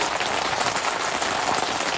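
Rain falling at night on a beach campsite in St Lucia, South Africa: steady, dense patter of drops on surfaces, close and continuous with no voices.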